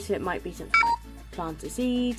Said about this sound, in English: excuse the noise on my phone